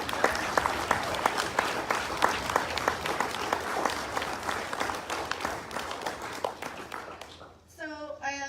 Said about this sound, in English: let's just have a round of applause for our wonderful